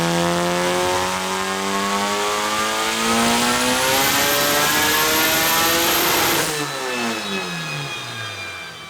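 A Honda H22 engine fitted with Skunk2 BMF roller cams revs hard on a chassis dyno during a high-horsepower pull, its tone climbing steadily for about six seconds before the throttle snaps shut and the revs fall away, loud and close.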